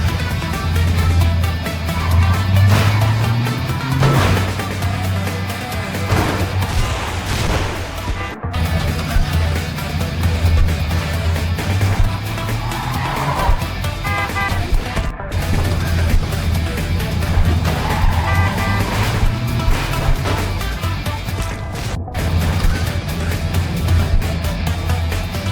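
Trucks in the video game Clustertruck keep driving and crashing, a steady low engine drone with sliding pitch and scattered impact bursts, loud throughout.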